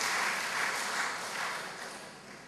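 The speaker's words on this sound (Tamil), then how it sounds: "இந்த பாடல் கைத்தட்டினீங்க" An audience claps after a song at a stage event, a steady, dense wash of applause held for a couple of seconds and fading slightly at the end.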